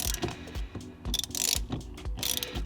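A ratchet wrench clicks in quick repeated bursts while tightening a bolt on an Audi B8 shifter linkage, close-up metallic ratcheting with short pauses between strokes and no talking.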